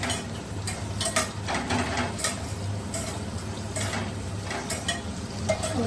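Chicken biryani ingredients fry in hot oil in a pan while a spoon scrapes and stirs, a steady close sizzle broken by repeated metallic clinks, with no talking.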